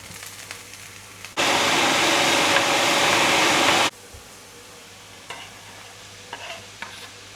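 Grass-fed beef frying in organic olive oil in a hot pan, a loud steady sizzle bursting in suddenly and holding for about two and a half seconds before cutting off, leaving quiet light clinks afterward.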